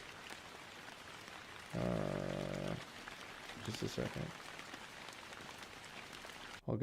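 A rain ambience track plays as a soft, constant hiss of falling rain in the background while a person talks briefly over it, and the sound continues unchanged throughout.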